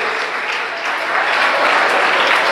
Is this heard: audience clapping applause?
yes